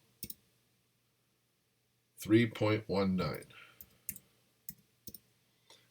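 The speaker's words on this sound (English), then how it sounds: "I'm just using my keypad to help punch these numbers in faster" Sharp isolated clicks of keypad keys tapped while entering numbers, a few scattered presses before and after a short spoken stretch, close and crisp against near silence.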